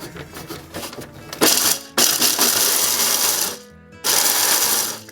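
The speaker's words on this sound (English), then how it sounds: "that's to grind these almonds" Almonds are ground for vegan sausage rolls: loud, harsh mechanical whirring in bursts, broken by a short drop-off before the grinding starts up again.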